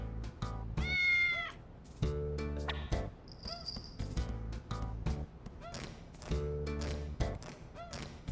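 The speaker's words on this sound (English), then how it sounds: "Hey, how'd you get in here, little kitty cat?" A cat meows in the video game Digital Devil Saga, with a few clear, drawn-out meows mixed into game music and sound effects.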